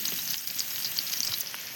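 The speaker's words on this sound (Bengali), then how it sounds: "পেঁয়াজটা ভাজা হইল" Onion frying in a pan for a home-cooked Indian meal gives a steady, soft sizzle with faint crackles throughout, close by and alone without talk.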